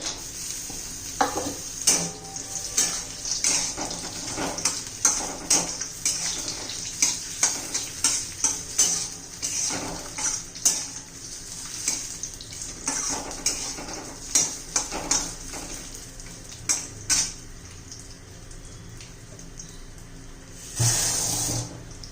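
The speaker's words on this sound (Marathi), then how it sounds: "तेल आता गरम झालंय त्यात आपण खोबरं भाजून घेऊ" Coconut roasting in hot oil for a dry chicken dish, with steady frying hiss and repeated clinks and scrapes of a spatula against the pan, a louder hiss flaring near the end.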